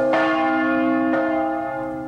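A church bell rings twice about a second apart, each strike loud and bright with a long, humming resonance that slowly fades between and after the blows.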